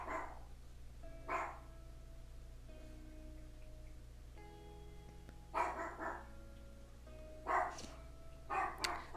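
A dog barks a few times in short bursts, fairly close, over a steady low background hum with faint tonal music underneath during a livestream.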